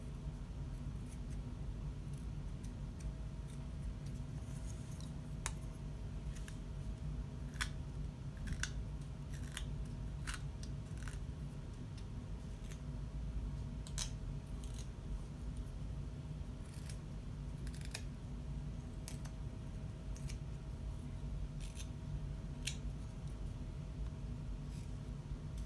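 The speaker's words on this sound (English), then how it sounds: "knife to cut those hairs away," A knife carves a wooden Santa ornament, cutting away loose fibres: a run of faint, close, irregular scraping nicks over a low steady background hum, with no talking.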